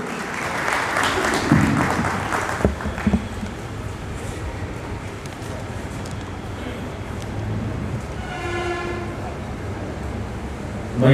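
A crowd at a Bahujan Samaj Party meeting in Gurgaon claps loudly for the first few seconds, then the applause fades into a murmuring hall with faint tonal horn-like notes later on.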